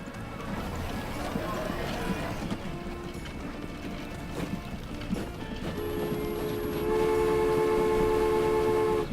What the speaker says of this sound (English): Come on, there was a train coming. There he comes.